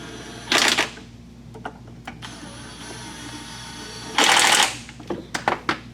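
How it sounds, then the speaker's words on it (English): Impact wrench snugging the transmission pan bolts on a 2024 Duramax 10-speed, set to 80 inch-pounds, with two loud bursts of about half a second each, separated by quieter clicks and handling noise in a shop. "So I'm going to snug them up with the impact,"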